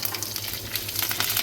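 Curry leaves crackle and sizzle as they drop into hot oil for a Marathi home tempering with cumin, mustard seeds and chana dal, a steady close frying hiss throughout.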